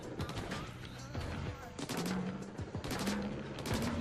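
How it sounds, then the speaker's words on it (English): A burst weapon fires repeatedly in the video game Splatoon 2 Octo Expansion, with quick clusters of snappy shots over game music and effects, several bursts in a row. "Oh, I've never used this gun before."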